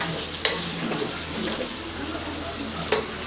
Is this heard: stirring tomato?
yes